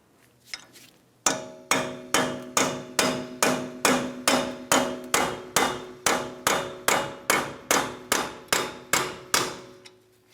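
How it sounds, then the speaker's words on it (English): A steady series of sharp metallic hammer-on-punch strikes on an axle, freeing it from the wheel bearing hub of a 2009-2019 Ford Flex, about two per second, ringing briefly after each blow, close and loud with no talking. "Let's continue on with a hammer and punch."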